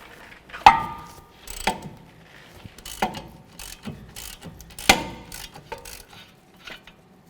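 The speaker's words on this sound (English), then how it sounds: "I'm gonna need to put a wrench on this side" A wrench and ratchet loosening bolts on the front driver-side CV axle of a 2005–2016 Toyota RAV4, heard as sharp metallic clanks and ratchet clicks close up, spaced about a second apart with quieter ticks between.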